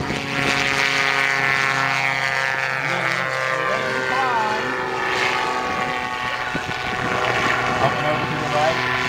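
A gyrocopter's engine and rotor drone on steadily as it noses down and descends in a smoke-on display flight, with a voice talking over the continuous aircraft noise throughout.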